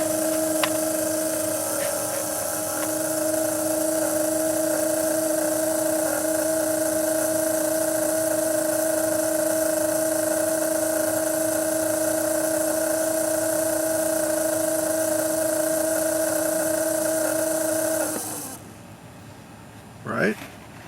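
A small pulse motor powered by a wireless Joule Thief circuit runs with a steady, fairly quiet electric whine and hum, holding constant pitch for many seconds before stopping abruptly.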